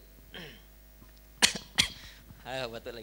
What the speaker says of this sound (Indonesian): Ayo batuk lagi.